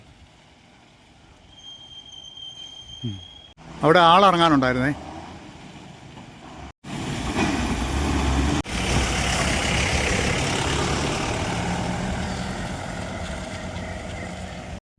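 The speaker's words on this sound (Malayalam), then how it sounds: "കട്ടപ്പനയിൽ നിന്ന് വരുന്നൊരു ബസ്സാണ് തേജസ്" Tejas bus from Kattappana rolling in near Mathaipara, Idukki, a loud broadband engine and road roar building after a brief squeal, holding steady and close for several seconds, with people talking over it.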